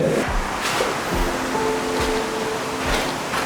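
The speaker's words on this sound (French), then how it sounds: "si vous entendez un bruit assez énorme, c'est l'eau qui coule. C'est plus une rivière, là, c'est une cascade" Water rushing down a jungle waterfall, a steady broadband roar of falling water heard close and continuous, with faint crackles and a few soft tonal sounds over it.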